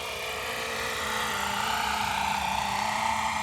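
A radio-controlled Bell 206 GPS helicopter drone flies close by with a steady, high buzzing whine of rotor and motor throughout, with no voices.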